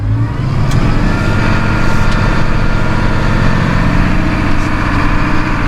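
Massey Ferguson 7S.155 Classic tractor with Dyna6 semi-powershift transmission, engine running close and loud at a steady, deep rumbling speed throughout, with a few faint clicks and no talk.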